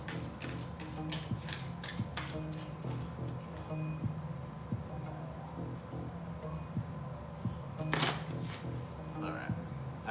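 A tarot card deck being shuffled by hand, with a steady run of soft riffling clicks and taps close by over roughly ten seconds, plus a sharper flurry near the end.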